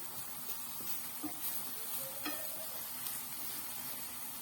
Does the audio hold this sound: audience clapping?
no